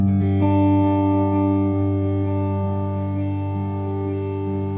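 A sustained ambient electric guitar tone rings with crisp delay repeats and a lush, effected sheen, holding steady harmonic notes alone, fading slightly over a few seconds.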